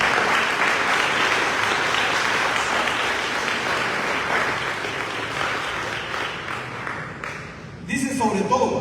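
A church congregation bursts into sustained applause, a dense, loud wash of clapping from many hands that holds steady for several seconds before thinning out, with voices rising near the end.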